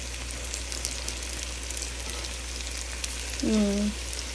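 Food frying slowly on low heat until reddish and crisp makes a faint, steady sizzle with a brief tonal whine near the end.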